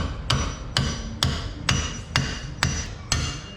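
A hammer strikes a stuck pickle fork on a BMW 328i front end seven times at a steady rhythm, each blow sharp and ringing, close by with no talking.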